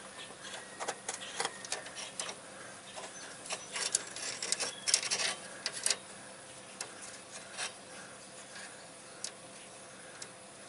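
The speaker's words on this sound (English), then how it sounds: "going to use one of these little tube cutters" A small tube cutter grinds and scrapes around a rusted steel brake line on a pickup truck, a quiet series of ticking, rasping strokes that build briefly in the middle and then taper off.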